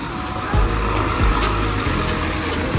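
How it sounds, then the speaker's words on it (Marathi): A bus pulls into Bhusawal bus station, its diesel engine idling and rumbling close by, with a few low thumps and shifts in engine tone and a steady hum of the station around it. "भुसावळ बरानपूर गाडी आता आलेली आहे।"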